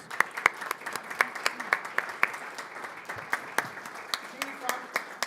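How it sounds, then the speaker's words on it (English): A small group at a city council session applauds EMS professionals with scattered, uneven claps, fairly close, lasting a few seconds. "Can we have a round of applause for our EMS professionals, please?"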